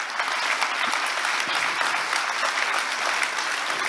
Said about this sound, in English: let's just give a big round of applause to the entire team